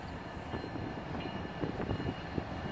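A train rolls past on the nearby track as a steady close rumble with faint rhythmic rail clatter, no horn and no voices.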